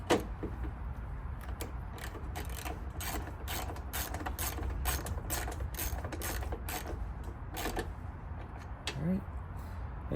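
A hand ratchet clicks rapidly and repeatedly close by while tightening a headlight bolt on a 1995–2004 Toyota Tacoma, with steady pawl ticks over a low background hum.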